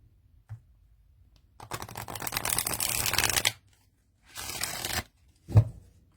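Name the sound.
riffle shuffling tarot cards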